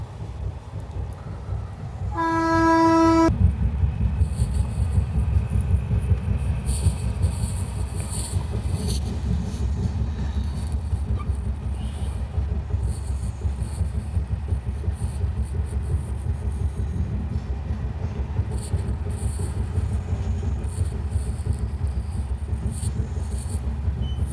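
Jhelum Express rushing past a moving Indian passenger train, a short horn toot at the start giving way to a long, steady, loud rumble and rattle of passing coaches that holds to the end.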